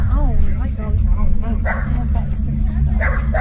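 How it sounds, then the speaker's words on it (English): A dog yips, whimpers and barks in quick, uneven bursts close by, mixed with excited human voices talking over it throughout. "that's a dog."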